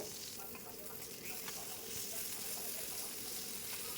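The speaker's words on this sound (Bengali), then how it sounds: "বাকি মাছগুলো একই রকমভাবে ভেজে নেব" Fish sizzles steadily in hot oil in a pan, a dense, even crackle holding at a constant moderate level throughout, with no talking.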